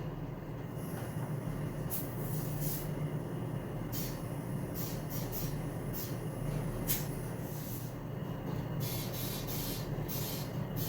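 Air hisses steadily out of a leak on a riding mower during maintenance, a faint, continuous hiss with scattered brief clicks and rustles, no talking.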